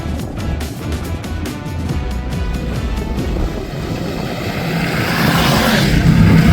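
A car driving across Iceland accelerates, its engine roar swelling steadily and growing loudest over the last couple of seconds, with rushing road and wind noise throughout.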